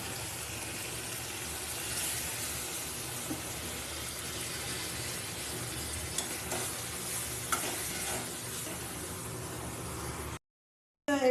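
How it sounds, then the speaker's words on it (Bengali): Drumstick stalks being stirred and sautéed in a pan give a steady, continuous sizzle with scraping stirs throughout, then cut off abruptly near the end. "শুধু একটু ভালো করে কষিয়ে নেওয়ার পালা বেশ কিছুক্ষণ ধরে কষিয়ে নিতে হবে"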